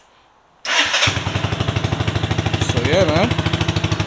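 A motorcycle engine cranks and fires after a quiet moment, then settles into a loud, close, pulsing idle with a rapid regular beat while someone speaks briefly over it.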